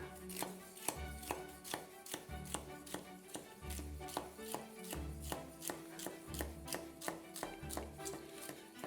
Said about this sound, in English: Stack it on top of one another, and then I'm just going to slice.